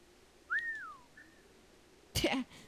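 A single rising-then-falling whistle sounds in the Assassin's Creed 3 video game, followed by a short fainter second whistle and then a brief loud burst of noise.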